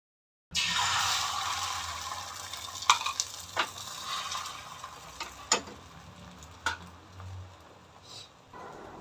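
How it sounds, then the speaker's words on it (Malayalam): An egg fries in a pan with a soft, continuous sizzle, broken by a few sharp clicks and scrapes of a utensil against the pan. "ഇനി നമുക്ക് മുട്ട പൊരിക്കാം."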